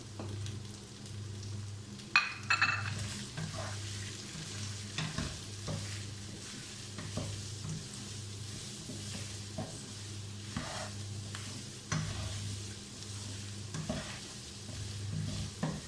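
A spoon stirs spices into beef frying in a pot. Steady sizzling continues throughout, with a louder scrape near the start and soft, regular stirring knocks.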